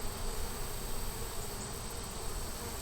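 A swarm of bees buzzing in a dense, continuous drone, loud and close, with no pauses and no voices.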